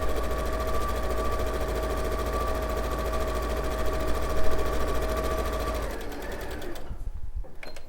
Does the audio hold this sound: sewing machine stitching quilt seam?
yes